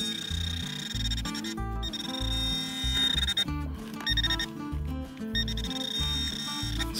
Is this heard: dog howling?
no